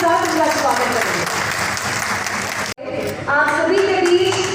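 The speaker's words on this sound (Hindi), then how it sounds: "पर जोरदार तालियों के साथ इनका स्वागत करेंगे।" Loud, continuous applause welcomes chief guest Nitin Gadkari at the Ayodhya Parv inauguration in Delhi's Constitution Club, with voices and other sounds over the clapping and a brief dropout partway through.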